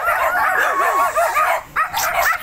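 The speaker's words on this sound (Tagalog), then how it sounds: "Tao po, daming aso." Dogs bark and yip repeatedly at close range, with some whiny, high-pitched barks mixed in.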